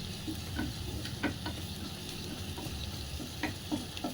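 Garlic sizzles in hot oil in a pan for a peas curry, a steady frying hiss broken by soft scattered clicks and scrapes of stirring, close and moderately quiet.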